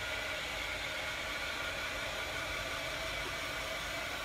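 A blow dryer runs without pause, drying paint on a stenciled sign made from a cabinet door, a loud, steady, broadband whoosh that fills the whole stretch with no breaks.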